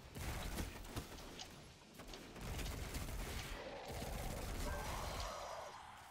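Bursts of gunfire and mechanical weapon noise in the video game Destiny 2, dense and continuous, with a brief lull before the firing resumes.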